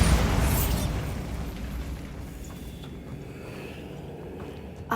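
Bombarda blasting spell going off in Hogwarts Legacy: a loud, close explosion with a heavy boom at the start that decays into a long rumbling tail of debris and noise, with no talk.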